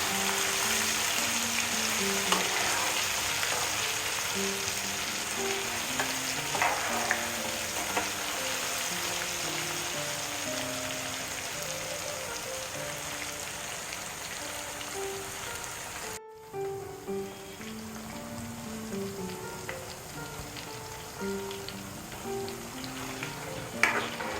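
Restaurant-style chicken 65 deep frying in hot oil over a low flame, a dense continuous bubbling sizzle with crackling pops, close up and steady, briefly cutting out partway before resuming.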